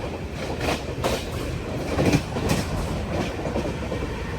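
From inside a general coach of the Tirumala Express nearing Koduru station, a steady loud rumble of the moving train carries rhythmic wheel clatter and rattling throughout, with no voices.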